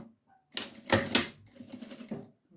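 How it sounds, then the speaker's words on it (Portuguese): A sewing machine stitches the hem of a cloth diaper in short, close whirring bursts, with a brief pause between runs, and no voices. "Aqui eu só venho costurando, alinhando tudo e costurando."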